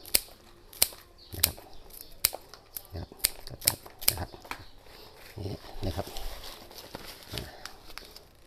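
Scissors chopping banana plant stalks and leaves into small pieces, a series of sharp irregular snips and clacks, close and fairly quiet, with soft rustling between cuts.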